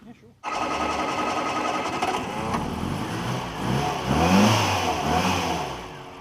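A classic car engine, likely a Mk1 Ford Fiesta or Mk2 Ford Cortina 1600E, starts and runs steadily with a loud, even mechanical chatter, revving slightly partway through, with a voice briefly audible.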